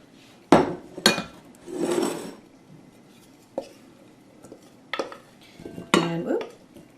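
A utensil clanks and scrapes against a bowl while food is mixed, with sharp knocks and a longer stirring scrape, close up and without talk; the dish is potatoes and Brussels sprouts with apples and onions.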